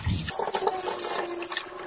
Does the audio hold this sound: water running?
yes